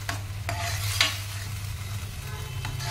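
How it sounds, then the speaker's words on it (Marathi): Ground cooked rice roasts in ghee while a spoon scrapes and stirs it in the pan, giving soft sizzling under a few distinct scraping strokes, close and moderately quiet. "मग भात बारीक केलेला मिक्सरमध्ये चांगलं भाजून परतून घेऊया याच्यामध्ये तुपावरती।"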